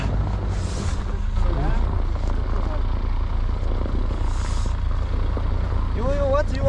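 A heavy truck engine labours and revs steadily as it climbs a snow-covered mountain road in a blizzard, a loud continuous drone throughout, with people talking over it near the end.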